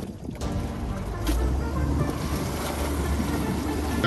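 Ribeye A683 rigid inflatable boat powering through choppy sea water, a steady outboard engine drone mixed with wind buffeting and water slap, growing louder after the first second.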